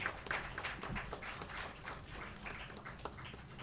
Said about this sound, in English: Please clap them